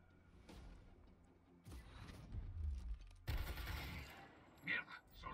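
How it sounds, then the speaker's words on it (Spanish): A burst of rapid gunfire in Gears Tactics, loud and close, with crashing impacts and a brief whooshing tail. "Disparo de furia."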